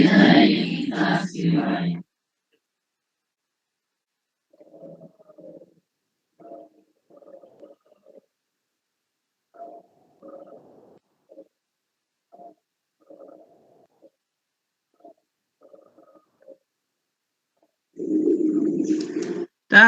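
Soft, low cooing from a pigeon in short repeated bursts, faint and spaced out, with louder talking at the start and end.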